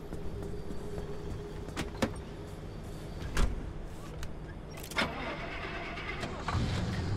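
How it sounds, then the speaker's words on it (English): A gasoline-style combustion car engine runs steadily in the Pacific Drive video game, a continuous low hum with a few brief mechanical thumps and clicks over it, with no talk. "The funny thing is, though, is that the engine still sounds like a gasoline engine."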